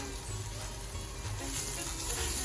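Flour cooking in a pan with fat, a steady low sizzle and frying hiss running throughout with faint stirring underneath, growing slightly louder toward the end.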